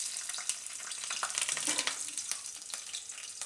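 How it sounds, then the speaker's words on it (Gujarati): Cloves, star anise and green chillies hit hot oil and fry with a bright, close crackle and pops, a dense sizzle throughout with no talking. "તો તેલ આપણું ગરમ થઈ ગયું છે, એમાં આપણે મસાલા નાખીશું"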